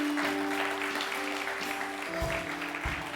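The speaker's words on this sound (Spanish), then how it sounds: "Dale un fuerte aplauso a Jesús en este día." A church congregation gives a round of applause during an evening sermon, a fairly faint continuous patter of clapping with a low steady hum and a couple of dull thumps in the background.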